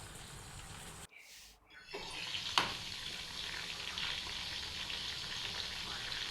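Chicken kofta frying in hot oil in a pan gives a steady, close sizzle with a brief dip and a small clatter, then the crackling frying continues evenly.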